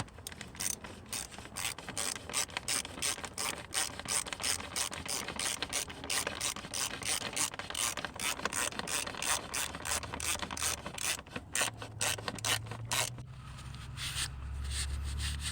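A ratchet wrench tightens a bolt on the starter motor of a 2005 Toyota Camry 4-cylinder, giving a long run of rapid, steady clicks close up, with a lower mechanical rumble near the end and no talk.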